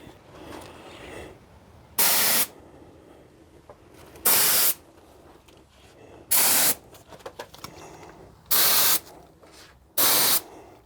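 An aerosol can sprays clear coat over automotive paint in five loud hissing bursts, each about half a second, separated by quieter pauses with faint handling noises.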